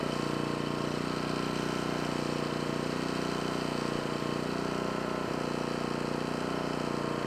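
A Stager DigiS2000i 2 kW inverter generator runs steadily at idle, a constant broadband drone with an even hum, close and unbroken, with no talking.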